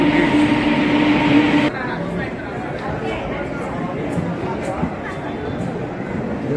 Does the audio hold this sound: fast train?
yes